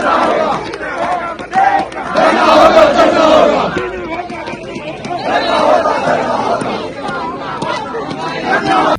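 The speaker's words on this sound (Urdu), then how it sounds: "یہ نعرے لگ رہے ہیں" A large crowd chants political slogans at night outside Adiala jail, loud, rhythmic and close, with shouting voices surging and dipping in waves throughout.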